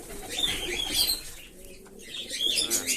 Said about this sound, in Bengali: বেশ সব পায়রাগুলোকে ছাড়া হয়েছে, খাবার দেওয়া হয়েছে, এগুলো বেশ খাচ্ছে ভালোই।